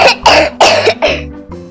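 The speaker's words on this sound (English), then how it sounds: "Coughing is an effective way to push the object out." A child coughs in a quick burst of four or five harsh, close coughs, each sharp and loud, with brief gaps between them.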